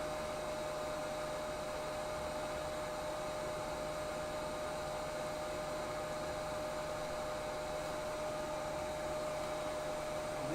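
A hair dryer blows steadily on a freshly painted swim bait, giving a loud, close, unbroken whoosh with a faint tonal whine that holds for the whole stretch.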